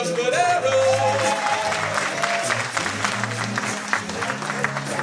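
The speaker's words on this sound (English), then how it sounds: "Everyone give a big round of applause for Mr. Mike Boxer!" An audience at a live vocal group concert bursts into loud, sustained clapping that runs for several seconds, with a voice and crowd murmur mixed in at the start.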